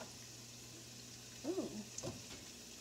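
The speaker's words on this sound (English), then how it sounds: "You are sizzling, my dude." Bacon sizzles in a frying pan turned up to high heat, a steady hiss over a low background hum, broken briefly by a short exclamation from a person nearby.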